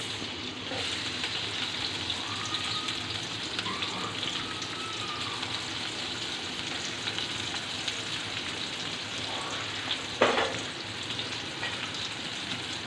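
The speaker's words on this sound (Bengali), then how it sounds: "প্রথমে তেল দিয়ে দিলাম দিয়ে দিলাম পেঁয়াজ" Onion fries in hot oil for a snakehead fish bhuna: a continuous, even crackling hiss that stays steady throughout, with one brief louder clatter late on.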